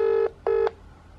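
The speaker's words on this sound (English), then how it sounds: "Let me try to FaceTime him" A FaceTime call ringing out on a phone, two clear electronic tones in close succession, loud and near, then quiet.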